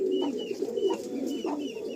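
An old-line Madrasi cock pigeon keeps up a close, steady, burbling coo, rising and falling in swells, while thin chirps from other birds flicker above it.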